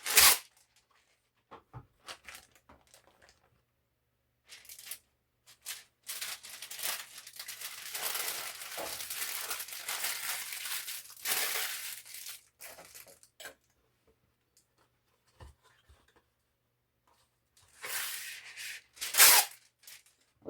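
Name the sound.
crumpling wax paper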